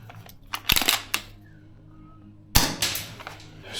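A VFC URGI V3 gas blowback airsoft rifle firing at about 2 joules gives sharp mechanical cracks, a quick burst of snapping shots, then a pause and another loud clacking report, all close by.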